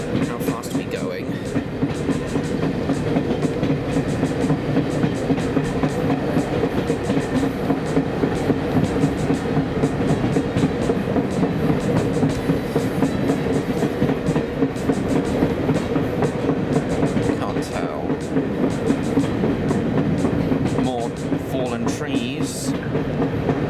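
Heritage train on the Spa Valley Railway rolling steadily along the rails, a continuous close rumble with rhythmic clatter throughout, while a voice speaks briefly over it.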